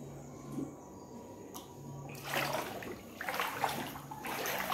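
Flood water in a home garage, a soft continuous watery wash and splashing that swells in the second half, heard faintly at a middle distance with no one speaking.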